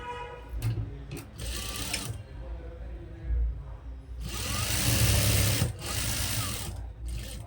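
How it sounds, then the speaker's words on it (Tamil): A sewing machine runs in bursts as it top-stitches a chudi pant pocket. The motor whirs steadily, pauses, then races again loudly in the middle of the stretch. "டாப் ஸ்டிச் கொடுக்குறோம்."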